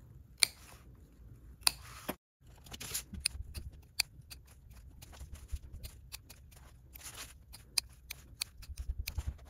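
Scissors snipping notches into the curved seam allowances of a fabric pouch, a series of sharp, close snips spaced irregularly over quiet handling noise, alone without talk.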